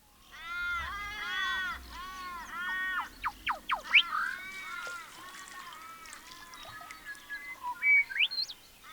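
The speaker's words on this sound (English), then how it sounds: "Birds gather by their thousands." Birds at an outback waterhole in Australia call and chirp in a busy chorus of overlapping whistles, trills and harsh notes, close and lively, with a low rumble underneath.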